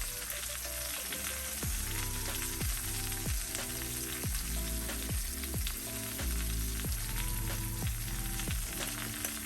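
Breaded pork Milanese topped with grated Parmesan sizzles steadily in a frying pan, with a busy crackle and repeated soft scraping or nudging sounds at regular intervals.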